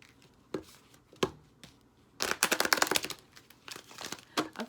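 Quick bursts of crisp riffling and snapping as a deck of tarot cards is shuffled, with short pauses between a few sharp flutters close by.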